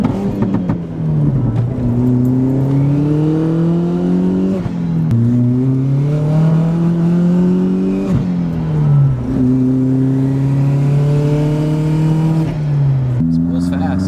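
BMW E36 M3 accelerating hard through the gears on a road, engine note rising steadily then dropping at each shift, loud and close from inside the cabin, with occasional talk from occupants.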